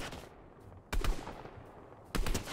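Gunfire in the video game Fortnite Chapter 3: two sharp, loud bursts of rapid shots about a second apart, each ringing briefly over a steady background of game ambience, with no talk.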